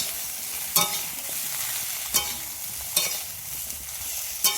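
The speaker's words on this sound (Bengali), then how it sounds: "দিয়ে সবগুলোকে একসাথে ভালো করে আবারও নেড়ে নেব" Small Japanese puti fish turned in a hot pan with turmeric powder: sharp spatula scrapes land every second or so over a constant hissing fry, close up and free of voices.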